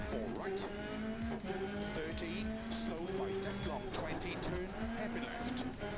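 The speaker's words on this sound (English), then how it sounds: "And it's got the nice idle sound." A Peugeot rally car idles in Dirt Rally 2.0, a steady low engine hum with a faint recurring rise and fall, playing on its own at moderate level.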